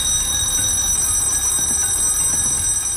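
A continuous electronic alarm clock rings steadily and loudly through the whole stretch, a dense sustained buzzing tone with no pauses and no voices.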